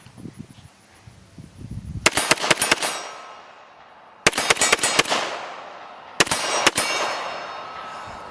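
A Magnum Research 1911 .45 ACP pistol fires three quick strings of loud, sharp gunshots, each volley ringing out and decaying between bursts, with faint chatter before the first.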